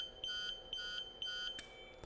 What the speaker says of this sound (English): It beeped at me for 2 seconds before it went on to run its code.